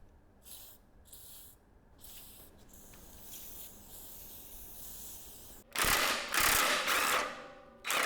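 Penetrating oil is sprayed onto the old, long-seized bolts of a vintage disc harrow. A few soft, short aerosol hisses come first, then louder, longer bursts close by near the end.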